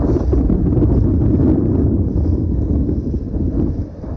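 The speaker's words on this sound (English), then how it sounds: "it's pretty windy today" Strong wind roars steadily across the microphone on a sailing trip, a loud, low, continuous rumble with no voices.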